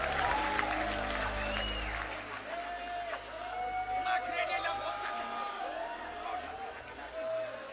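Church congregation applauding at a lively Amharic-language worship service, a steady roar of clapping with cheering voices mixed in, loud and sustained throughout.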